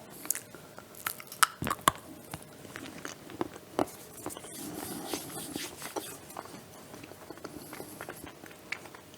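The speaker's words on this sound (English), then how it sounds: "Okay, let's have a taste." Close, crisp bites and chewing of red velvet cheesecake truffles with snappy chocolate shells and graham cracker crunch, a few sharp cracks followed by softer irregular chewing, quiet and without talk.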